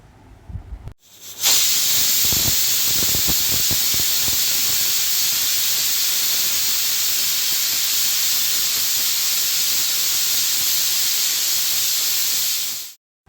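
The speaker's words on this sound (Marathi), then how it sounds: "आता आपल्याला दोन शिट्ट्या काढून घ्यायच्या आहेत" A pressure cooker holding young jackfruit pieces with oil and salt vents steam in one loud, continuous whistling hiss that holds steady for about eleven seconds before cutting off, after a few brief knocks at the start.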